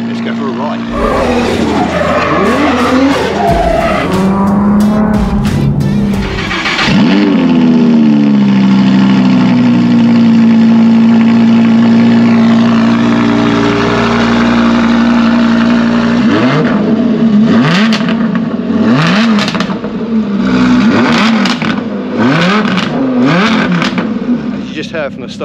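An Audi R8 supercar engine rises and falls through hard revs, with sharp tire squeals and skidding on the road, loud and close, and voices talking over parts of it.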